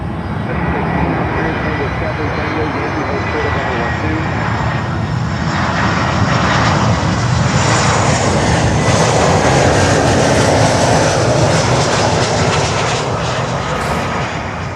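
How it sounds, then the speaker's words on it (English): Saab 340 turboprop engines drone loudly and continuously at Miami airport, a dense steady roar with broadband rumble throughout, plus faint tonal whine above it. "We have a lot of these Saab 340s here"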